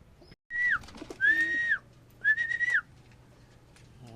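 A young blue bar pigeon gives three thin, whistling squeaks in short bursts, each rising then falling. The calls are close and faint over a quiet background hum.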